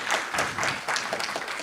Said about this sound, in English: they deserve a big round of applause from all of us for that.